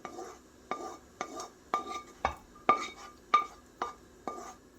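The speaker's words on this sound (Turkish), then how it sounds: "Ve şöyle karıştırıyorum" A spoon stirs a thick vegetable-rich mushroom soup with sautéed mushrooms in a pot, knocking against the sides in about ten evenly spaced clacks and scrapes, close and clear with no talking.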